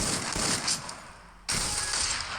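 Gunfire in a shooting video game, a dense burst of rapid shots for about a second and a half, then a brief gap and another sustained volley, loud and close with no talk.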